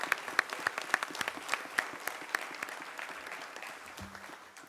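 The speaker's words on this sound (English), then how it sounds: "I'd love to give Coach Frager, his staff, and the players another big round of applause for the season that you guys had." A press conference audience gives a round of applause, sharp individual claps that are fairly close and dense at first, then thin out and fade toward the end.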